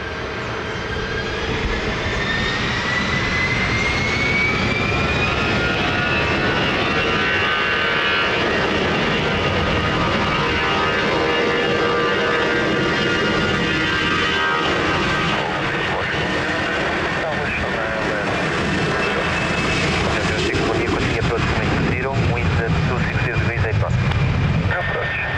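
A jet airliner takes off from runway 20 at Lisbon Airport, its engine roar loud and sustained throughout with a slowly shifting whine, heard at close range and mixed with radio-like chatter.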